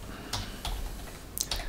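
A few separate keystrokes on a computer keyboard, typing in a database address: sparse, close clicks with short gaps, ending in a quick pair of taps, heard alone without speech.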